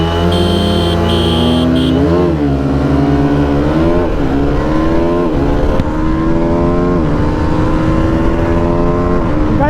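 Apache RTR and Pulsar NS400z motorcycles accelerate hard on a drag race track, their engines revving loud and close with rising pitch sweeps through several gear changes, one steady continuous roar with no talk.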